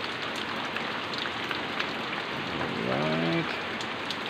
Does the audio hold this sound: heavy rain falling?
yes